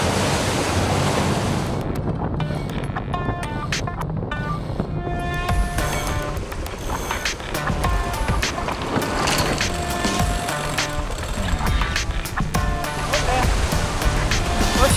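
A sailboat travels across open ocean between remote islands, with steady surf and water rushing past the hull under heavy wind buffeting the microphone throughout.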